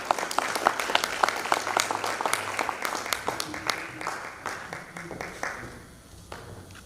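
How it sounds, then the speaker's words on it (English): An audience gives a round of applause at a community event, with sharp individual claps standing out in a lively burst that tapers off over several seconds. "Big round of applause to him."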